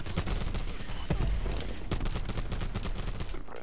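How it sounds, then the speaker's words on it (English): A video game team firefight with dense, continuous automatic gunfire, overlapping bursts and loud close shots filling the whole stretch without a break. "The Scythe team shooting, it's just not fair."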